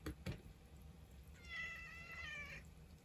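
A house cat meows indoors, one drawn-out, moderately quiet meow following a couple of faint knocks, with no talking over it.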